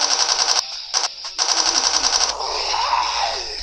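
Rapid automatic gunfire in a zombies video game crackles in tight bursts, each short burst broken by brief gaps before the firing resumes, close and loud, then tails off into a lingering ring.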